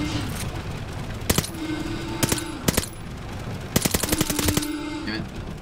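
Gunfire in the video game Call of Duty: Vanguard, set aboard a train, with loud bursts of rapid automatic shots and sharp single cracks over a steady rumbling background.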